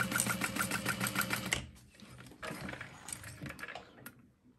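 A sewing machine runs in a quick burst while basting layers of a fabric wristlet together, then stops, leaving soft fabric handling and light clinks, all close by with no talking.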